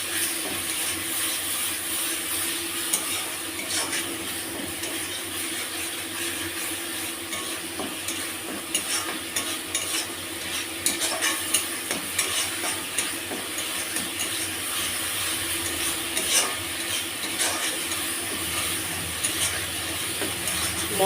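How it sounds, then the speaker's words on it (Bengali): Tomato paste and ginger paste being stir-fried as a masala, with a steady sizzle of frying and repeated scraping and clattering of a spatula against the pan for the whole stretch. "দিয়ে এবার আমি মশলাটা একটু কষবো"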